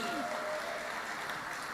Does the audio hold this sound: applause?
yes